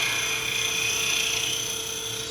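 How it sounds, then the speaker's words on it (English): A small wooden pot spins on a woodturning lathe while it is sanded, giving a steady, close, high-pitched whirring hiss that holds evenly throughout with no pauses. "Sanding this guy is"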